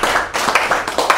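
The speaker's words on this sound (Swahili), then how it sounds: "Piga makofi kwa ajili yao." Audience clapping at a Tanzanian political rally, a dense burst of applause that swells and fades in several loud waves, close and continuous with no talk over it.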